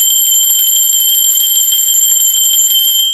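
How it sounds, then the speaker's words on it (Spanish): A bright metal bell rings continuously in a cleansing ritual, its high pure tones sustained and loud from start to finish, close and steady with no voices. "Va, campana."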